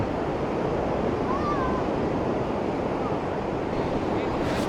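Ocean surf rolls in steadily at a surfing beach in San Francisco on the Pacific, a broad continuous wash of waves with wind buffeting the microphone and no voices.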